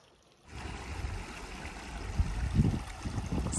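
The Rio San Antonio in New Mexico flows in a steady, close rushing stream, beginning abruptly after a short quiet moment and holding a continuous low wash of water with no voices.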